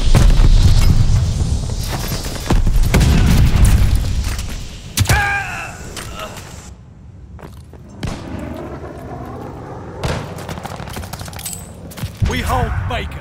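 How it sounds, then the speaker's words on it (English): A grenade explodes amid a Call of Duty: Vanguard firefight, with heavy booms and rapid bursts of gunfire densely layered near and far. The barrage thins out partway through as scattered shots and voices continue. "Throwing grenade."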